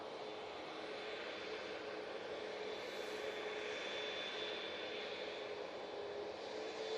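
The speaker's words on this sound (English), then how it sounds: "Ryanair Max 8 now to Almeria." A Ryanair Boeing 737 Max 8 airliner rumbles at Manchester Airport as a steady, faint broadband roar of jet engines heard from a distance, with no voices.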